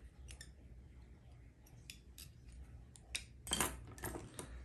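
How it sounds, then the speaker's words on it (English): Small scissors snip the excess feather while a tarpon cockroach fly is tied, a few crisp clicks spread out over a low steady background hum, with one louder closer cut near the end. "we'll cut out our excess on this feather"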